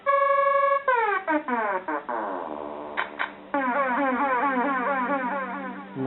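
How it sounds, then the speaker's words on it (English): Synthesized emergency alarm effect from a vintage Casio SA-1 keyboard, a loud repeating cycle of sweeping electronic tones, wailing siren-like up and down continuously for several seconds with no talk over it. "emergency alarm"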